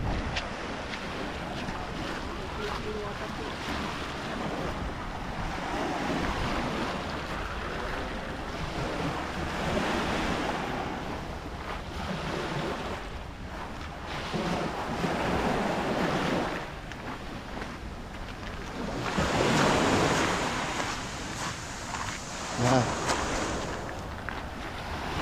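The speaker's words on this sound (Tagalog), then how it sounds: "Medyo malakas na ang alon." Strong sea waves roll in at a Batangas beach resort, a continuous loud surf roar with surges and crashes, heavy wind buffeting the microphone, and occasional voices beneath.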